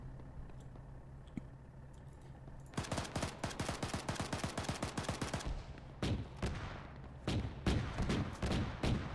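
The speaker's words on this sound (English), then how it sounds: "They are shooting at us." Automatic rifle and machine-gun fire in the military shooter Arma 3: after a quiet stretch, rapid bursts of gunshots erupt, dense and rhythmic at first, then breaking into shorter separated volleys, fairly near and loud.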